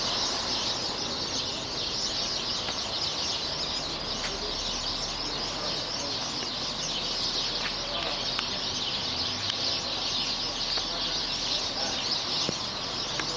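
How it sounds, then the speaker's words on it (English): A dense chorus of birds calling and chirping continuously in the background, with occasional clucking and cooing from fowl nearby. "Can you hear all of that bird all the birds chirping"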